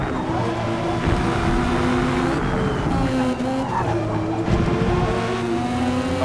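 A Toyota Supra in a retro tuner racing video game drives hard, its engine droning and shifting pitch up and down, with tire squeal and skids over a continuous loud race mix.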